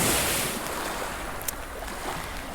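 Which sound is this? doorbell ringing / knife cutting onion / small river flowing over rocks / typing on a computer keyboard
small river flowing over rocks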